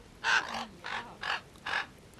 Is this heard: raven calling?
yes